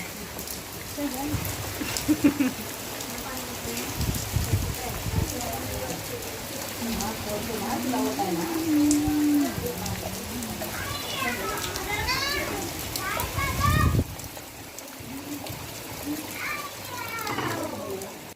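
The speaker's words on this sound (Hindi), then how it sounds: "बारिश बहुत ज़ोरदार थी" Steady heavy rain pours down with a constant dense hiss, while voices and children's chatter carry faintly through the downpour.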